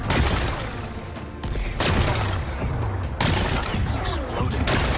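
Rocks being blasted apart in Horizon Forbidden West, a loud dense barrage of booming, crackling explosions that rolls on steadily with a few sharper bursts.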